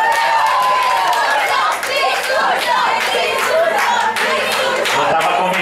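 A group of people, gathered after a church service, claps hands in a steady, close round of applause mixed with crowd chatter and cheering voices throughout.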